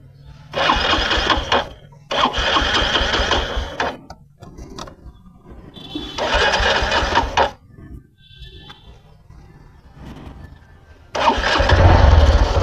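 A Honda Livo 110cc motorcycle engine is started, with several loud bursts of cranking and running engine separated by short quiet pauses, close by and heard alone.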